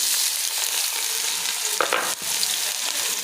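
Onions sautéing in about four or five spoons of hot oil, a dense, continuous close sizzle with a couple of brief scraping stir strokes partway through, and no voice.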